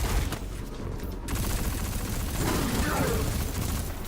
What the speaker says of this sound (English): I do notice that the SMGs are pretty accurate